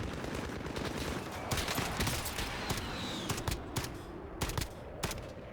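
Rapid assault rifle gunfire in Call of Duty: Modern Warfare Warzone crackles in bursts over dense, noisy background action, with sharp shots scattered throughout.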